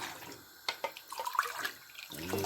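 Cold water pours into a pot while Kashmiri pink tea is being made, a soft splashing and trickling stream with scattered drips, fairly quiet and close, with no voices.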